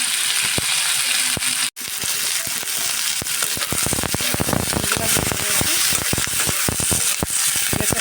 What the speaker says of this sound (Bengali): সব মশলাটা আমি একটু ভাজা ভাজা করে নিচ্ছি